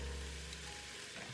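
Soft, steady sizzle of precooked bacon frying as it goes into a pan of vegetables for low-carb chili, a brief faint crackle with no voices.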